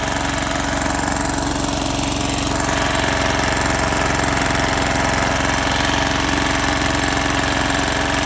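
A Zubr NT135E walk-behind tractor runs with a rotary harrow attached. Its engine is loud and close, a steady high-revving drone with rapid knocking pulses, and no talk over it.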